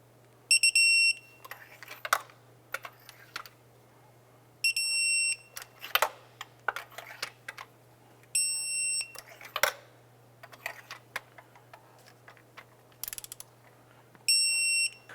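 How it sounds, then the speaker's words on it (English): Torque wrench tightening spark plugs on a 2001-2005 Honda Civic, giving repeated bursts of sharp metallic ratcheting clicks with brief bright beeping tones and a steady low hum underneath, close and clear with no talk. "Let's go ahead and torque our spark plugs down to 13 foot-pounds."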